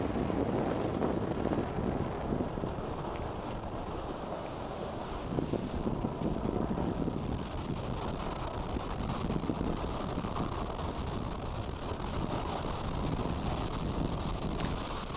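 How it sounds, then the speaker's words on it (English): A SpaceX Falcon 9 rocket climbs away from Space Launch Complex 4 East on the NROL-113 mission, heard as a steady, heavy broadband roar and rumble that stays continuous and fairly loud throughout. "Falcon 9 has successfully lifted off from Space Launch Complex 4 East, as you can hear on your screen"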